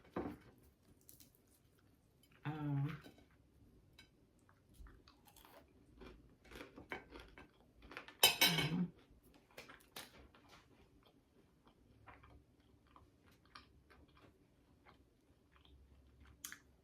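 Close, crunchy chewing of oven-fried fish with a few sharp bites standing out, then softer steady mastication through a quiet room.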